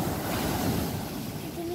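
Sea waves rolling and breaking on a beach in Barcelona, Spain, a steady broadband wash of surf with wind noise, close and fairly loud throughout.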